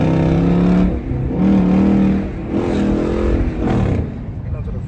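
Chrysler 300S with a 5.7 engine and straight-piped exhaust revs hard and loud in repeated surges, a deep raw roar rising and falling from close by.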